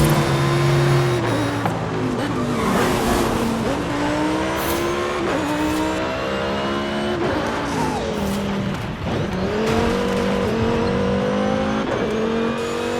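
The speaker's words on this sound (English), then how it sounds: "raise up the volume of the game so you guys can hear this beautiful Lamborghini" A Lamborghini engine in the Forza Horizon 5 racing game revs loudly and keeps going with repeated gear shifts, the pitch climbing and dropping over about thirteen seconds, with no talking.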